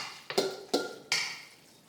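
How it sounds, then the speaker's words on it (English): Noodles being stirred into a warm peanut sauce, three distinct clattering scrapes of a utensil against the bowl spaced a little under half a second apart, close and fairly quiet with no talking. "all you do is you're going to stir it up like this"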